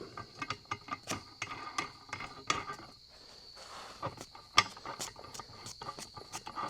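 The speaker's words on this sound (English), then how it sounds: "So now I'm going to put the cups on, then the threaded end cup." Metal bushing press cups being fitted onto the front suspension wishbone of a 1967 Volvo 1800S: irregular close clicks, light metallic taps and ratcheting ticks with a faint steady hum beneath, no talking.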